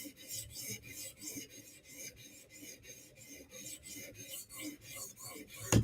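Knife sharpening on spinning polishing stones, a steady rhythmic rasping scrape repeating in even strokes, close and fairly quiet, with a sharp click at the very end.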